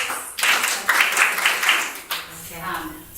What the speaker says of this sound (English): So we'll clap those together.